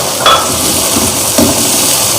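Crushed chili and tomatoes fry in a pot for a mutton and okra stew, a loud steady sizzle with two brief stirring knocks.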